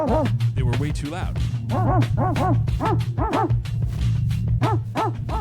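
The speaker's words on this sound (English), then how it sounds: "That's my dog barks, which I want." Repeated dog barks, often rising and falling like yips, sit inside a music track over a steady low beat and bass, fairly loud and rhythmic throughout, with a voice speaking briefly over the mix.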